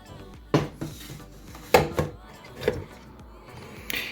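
Cake batter in a bowl set down into a multicooker, giving a few clattering knocks of dish and metal against the pot, with three or four distinct bumps spread over a few seconds, close and fairly quiet.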